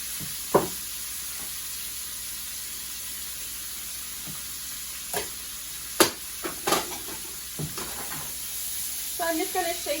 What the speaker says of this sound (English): I have my butter melted and hot. So I'm going to dump in the red and orange peppers and then add the zucchini